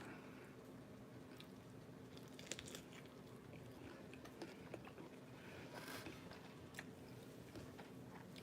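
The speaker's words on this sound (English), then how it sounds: "Big old crispy, crunchy shrimp." Close, crisp crunching and chewing on fried shrimp seasoned with cayenne pepper at a Southern restaurant, with repeated quiet bites and crackles at low volume and no talk.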